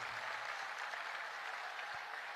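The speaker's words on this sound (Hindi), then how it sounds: "ये एक बार ताली जोरदार बजा करके धन्यवाद दो।" Audience at a religious gathering applauding in thanks, a steady, dense wash of many hands clapping, moderately distant and even throughout.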